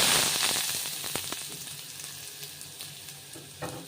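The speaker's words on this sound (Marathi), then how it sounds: "तेल आपलं गरम झालंय, तर मी ते 2 कांदे छोटे छोटे असं बारीक चिरून घेतलेत, एकदम बारीक पीस केलेत, ते घालते" Two finely chopped onions hit hot oil in a pan and burst into a loud sizzle that gradually settles into a steady, softer frying hiss with a few faint clicks.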